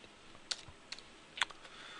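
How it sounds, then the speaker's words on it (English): Typing on a computer keyboard, three or four soft, quick key clicks spaced unevenly over two seconds in a quiet room. "I simply start typing VAR"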